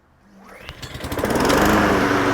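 A brand-new Honda HRN216VKA lawn mower fires on its first pull and quickly climbs to a loud, steady high-pitched engine drone, close by.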